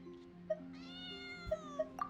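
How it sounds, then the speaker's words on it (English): A cat in the video game Genshin Impact meows in several short, tonal calls over a quiet background of soft sustained game music. "Where's this damn cat?"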